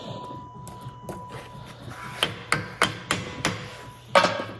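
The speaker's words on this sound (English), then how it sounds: "I tapped that one in" A Jeep JK axle part is tapped into a rusty, snug bore: a quick series of about six sharp metallic taps, close and fairly loud, after a quieter stretch.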